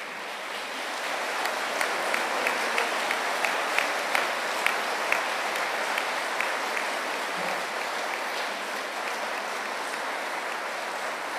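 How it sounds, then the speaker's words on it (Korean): An audience at a Yonsei University president's inauguration ceremony gives steady, sustained applause, a broad wash of clapping in a large hall that holds at an even level for the whole stretch. "열쇠를 전달해 주실 때 여러분들 뜨거운 박수로"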